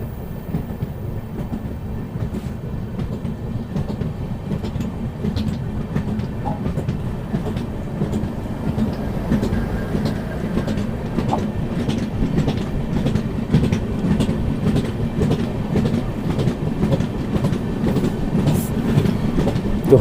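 An Amrit Bharat Express train running steadily past MEMU trains, with a continuous loud rumble and rhythmic clickety-clack of wheels on rail joints throughout, heard close from onboard.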